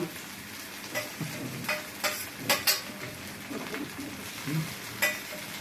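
Cardamom, cloves, cinnamon and ginger paste are stirred in a pan over a soft sizzle. A spoon scrapes in short, irregular strokes, about once a second.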